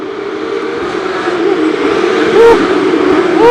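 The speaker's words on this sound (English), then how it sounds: "You're going to hear about 20 Porsches here." A pack of around twenty Porsches roars past a street race track at Long Beach, blending into a loud, sustained wall of engine noise with rising and falling pitch sweeps as cars pass close by.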